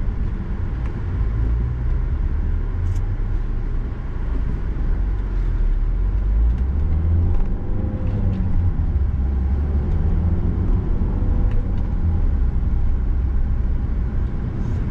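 A 2017 Volvo V60 D3 Momentum diesel estate drives along the road, heard from inside as a steady, loud low engine and tyre rumble with a slight rising drone midway, continuous and without talk.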